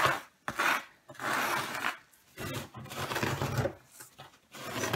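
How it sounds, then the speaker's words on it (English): Excess grout scraped off a mosaic with a tool, a series of close, rasping scrapes in uneven strokes separated by short pauses, with no speech. "I'm going to scrape off what I don't need"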